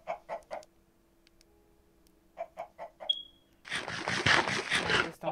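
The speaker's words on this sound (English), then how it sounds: "It's a bunch of chickens and sheep." Minecraft chickens cluck in short separate bursts, a couple of clusters with quiet gaps between them, followed by a loud, harsh block of noisy game sound toward the end.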